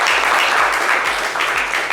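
Studio audience applauding on a Valentine's Day television talk show, a loud, even roar of clapping sustained throughout.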